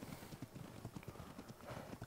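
Horse hooves clip-clopping in the video game Ark Ragnarok, a rapid steady trotting rhythm at moderate distance over a busy game soundscape.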